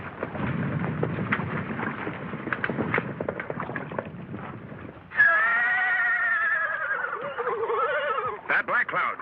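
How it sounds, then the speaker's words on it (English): A bogged-down warhorse gives a loud, drawn-out neigh that cuts in midway after a stretch of rumbling, rain-like noise, and a few shorter whinnies follow near the end. "One of our horses is bogged down."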